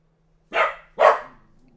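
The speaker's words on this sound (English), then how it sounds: "See, Maxie barked too" Two sharp dog barks in quick succession, fairly close and loud, with a faint low hum underneath and quiet otherwise.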